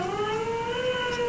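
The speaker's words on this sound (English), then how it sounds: "She has like a siren" A siren cranked by a winch in the Disco Elysium video game holds a steady, sustained wailing tone, loud and unbroken, with no speech over it.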